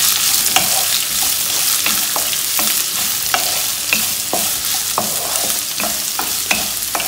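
Chopped large onions sautéing in oil in a pan for potato bhaji, a steady broadband sizzle with repeated scraping stir strokes of a spatula at irregular intervals, close and fairly loud, with no talking.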